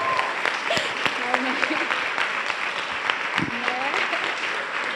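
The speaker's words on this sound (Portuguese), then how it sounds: "vamos aplaudir ao Senhor." Sustained applause from a church congregation at a youth conference workshop, continuous dense clapping with scattered voices and shouts under it.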